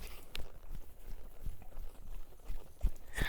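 A horse walks in an arena, its hooves thudding in an uneven, irregular rhythm of soft footfalls with light rustling between steps.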